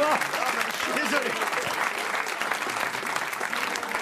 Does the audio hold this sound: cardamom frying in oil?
no